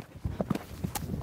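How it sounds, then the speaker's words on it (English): A horse trotting over trot poles in a jumping arena, several close, distinct hoof clops in quick uneven rhythm with light knocks over a noisy background. "we're just gonna do a simple trot in, canter out, one stride."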